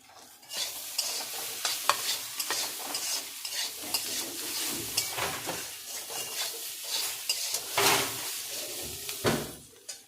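Slit green chillies frying in a pan for a soybean dish while a spoon stirs them, the steady sizzle broken by repeated scraping and clinking strokes against the metal, close and without talk.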